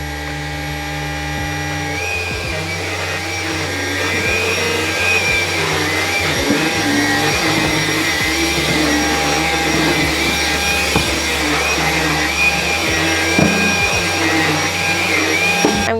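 A Halo Capsule X cordless vacuum powers up after a brief quiet start and runs with a steady, loud motor whine and airflow rush throughout, with slight shifts in pitch as it is moved.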